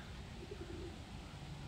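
Pigeons coo softly in a low, continuous murmur outdoors at a racing-pigeon loft, faint and steady with no talk over it.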